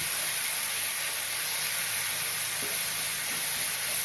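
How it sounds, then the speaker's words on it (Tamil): Curry leaf paste sautéing in oil for kuzhambu gives a steady, close sizzle that holds at an even level throughout, with no voices. "கருவேப்பிலை சாம்பு நல்லா வதங்கி எண்ணெய் பிரிஞ்சு வரணும்"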